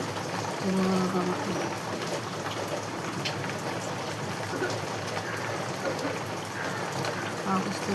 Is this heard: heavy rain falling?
yes